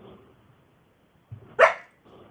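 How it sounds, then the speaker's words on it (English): A nearby dog gives a single sharp, loud bark that breaks an otherwise quiet room. Faint low murmuring comes just before and after it. "the dog barked and scared me"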